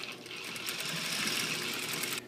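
A sewing machine runs steadily while stitching down a zipper fly seam from a marked point, a continuous close whirring hum lasting a couple of seconds with no talking.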